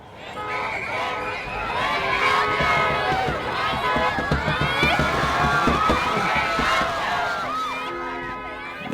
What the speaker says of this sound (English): Extreme chaos, extreme overheated crowd, extreme hospitality at the same time.